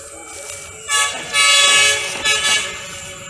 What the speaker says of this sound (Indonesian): kita lihat kereta api Sibinuang melintas langsung stasiun Pasar Usang